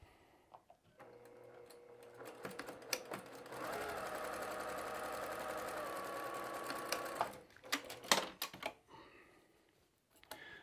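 A sewing machine stitches fabric in short starts, then runs in one sustained, fairly quiet whir before breaking into scattered clicks and taps near the end.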